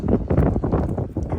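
Strong wind buffeting the microphone outdoors on a walk, loud uneven gusty rumbles and flutters throughout the short stretch, with no talk.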